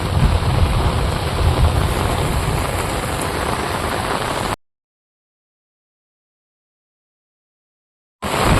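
Heavy rain pours steadily at a village farm, a dense, loud hiss of drops striking surfaces for several seconds before cutting off, then resuming briefly.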